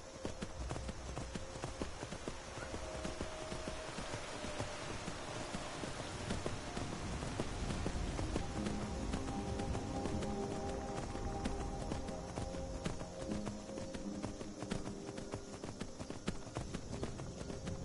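A horse in Skyrim clip-clopping with steady rhythmic hoofbeats under a continuous hiss like rain, fairly faint and even, with no talk over it.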